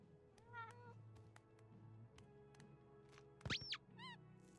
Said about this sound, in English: Okay, now we can lure the cat away.